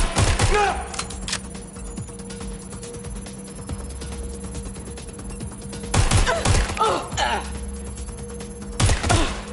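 Bursts of video game gunfire crack out in clustered volleys at the start, around the middle and near the end, loud over a steady hum of game ambience, with a voice briefly heard among the shots.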